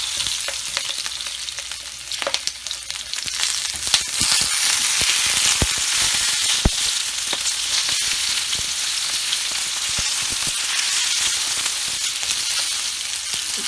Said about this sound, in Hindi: हमने इसको डीप फ्राई नहीं करना, शैलो फ्राई करना है। मिर्ची डाल देंगे